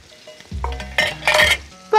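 A burger fries on a grill, crackling and sizzling in short bursts with light clatter of utensils, fairly close, no voices.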